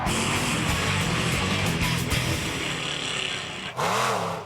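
A monster truck engine roars at a race, sustained and loud with wavering pitch, then a brief dip before another revving swell near the end.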